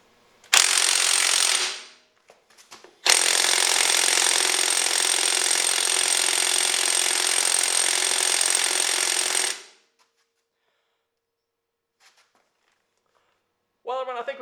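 A Bauer 20V half-inch cordless impact wrench hammers on tight nuts: a loud, close, rapid rattling burst of about a second, a short pause, then a long unbroken hammering run of roughly six seconds before it stops, followed by quiet.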